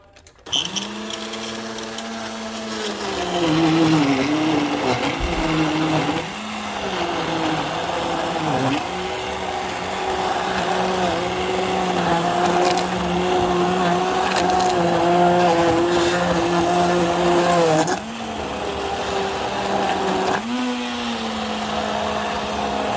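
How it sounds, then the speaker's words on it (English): An immersion blender whirs steadily and loudly through hot figs for over twenty seconds, its motor pitch dipping and recovering several times as it works through the fruit. "So I have my immersion blender here."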